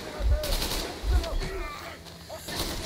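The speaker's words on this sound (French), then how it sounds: "Par où il me tire dessus, c'est pas possible ça" Gunshots in the Metro Exodus video game thump out in a few heavy, separate bursts over a noisy game soundscape, with someone talking through them.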